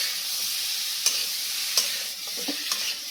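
Elephant foot yam curry with potatoes and spices sautéing in a pan, a bright, steady sizzle with a few spatula scrapes and stirring knocks close by.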